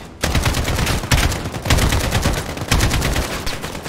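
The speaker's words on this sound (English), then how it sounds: "I will never be able to get over the sound of these guns." Rapid automatic gunfire from Call of Duty: Modern Warfare, close and loud, with dense bursts of shots repeating in a steady, punchy rhythm across the whole stretch with no talking.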